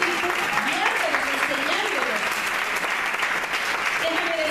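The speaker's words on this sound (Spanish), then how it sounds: "Dale un aplauso al Señor" A church congregation claps continuously in a loud, even burst of applause, with voices calling out and a speaker talking over the sustained clapping.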